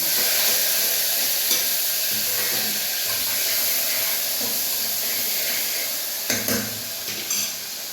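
Chopped tomato and chilli sizzle steadily in hot oil in a pan, a dense, continuous fry with occasional stirring clatter and a louder flare near the end.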